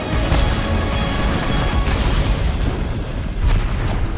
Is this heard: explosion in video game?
yes